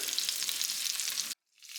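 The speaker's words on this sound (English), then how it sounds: "Got a nice little sizzle going on." Loud, steady sizzling of duck frying in a hot pan, crackling continuously before cutting off abruptly, then resuming briefly.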